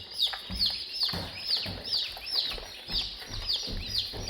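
Chicks in a pen, including dark Cornish, Polish and Barred Rock breeds, peep in a steady run of high, repeated calls close by, with soft rustling beneath.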